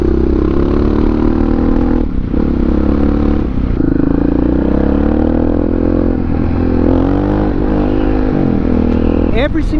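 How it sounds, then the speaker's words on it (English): A Honda XR650R supermoto motorcycle is ridden at a steady cruise, its single-cylinder engine droning loud and continuous with slight pitch shifts, and a rider talks over it. "I'm just riding this normally, but this bike is incredibly fun."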